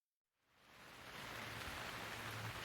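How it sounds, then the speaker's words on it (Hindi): Heavy rain fading in from silence to a dense, steady hiss of downpour, loud and close, with a low rumble underneath, used as a spooky atmosphere at night in a village. "उस रात बहुत तेज बारिश थी।"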